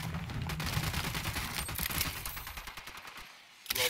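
Rapid gunfire in the video game Ghost Recon Wildlands, a dense stream of crackling shots that carries on steadily before a brief pause and a final loud burst.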